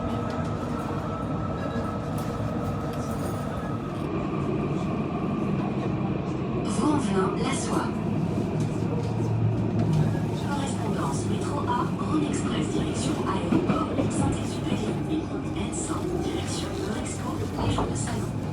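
A Lyon T3 tram rumbles steadily along the tracks with rattling and squeaks throughout, loud and close, while a person talks over it.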